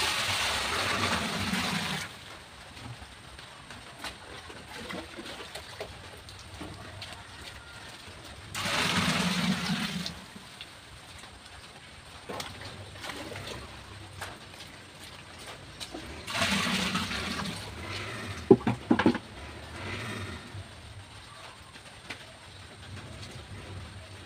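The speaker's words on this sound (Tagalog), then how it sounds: "salinan lang po natin ng tubig" Water is poured by hand, with no hose, into a Sharp automatic washing machine showing error E4. It comes as three separate gushing bursts of a few seconds each, with quieter intervals between them.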